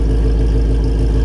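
Deep, loud engine drone from a 2017 Ford Mustang GT350 fitted with headers, an H-pipe and stock active mufflers, a steady low rumble holding close to the microphone with no voices.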